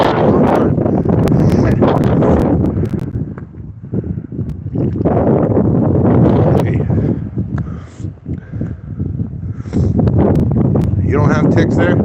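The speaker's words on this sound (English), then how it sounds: "Holy hell, the wind." Strong wind gusts along a long sloping street roar heavily into the microphone almost continuously, loud and buffeting, with people talking underneath.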